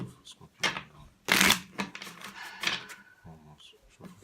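Tarot cards shuffled by hand in quick, uneven bursts of crisp riffling and slapping, one especially loud flurry in the middle, with a person talking alongside.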